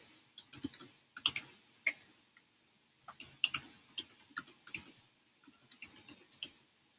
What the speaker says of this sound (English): I'm just going to type one of my favorite Bible verses